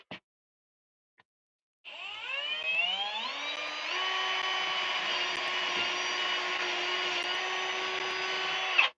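Power drill boring a hole for a doorknob mechanism, a sharp start followed by a steady, sustained whine as the motor climbs to speed and holds.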